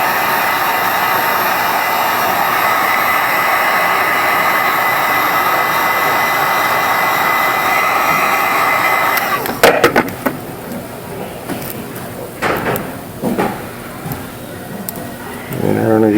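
A heat gun blows a loud, steady whooshing roar over the screen of a Samsung Galaxy S4, then cuts off after about nine seconds, leaving scattered handling clicks and knocks.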